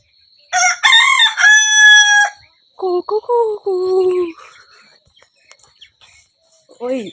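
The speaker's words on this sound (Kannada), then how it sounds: "ಇದು ಕರಿ ಹುಂಜ ನೋಡ್ರಿ, ಎಷ್ಟು ಚಂದ ಐತಿ ಇದು ಕರಿದು." A black rooster on a village farm gives a loud, close crow. A second, lower crow follows, then a short call starts near the end.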